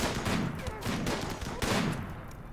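Rapid SMG gunfire in the colony sim game RimWorld, dense overlapping bursts of shots filling the whole stretch, loud and continuous with a brief jolt partway through.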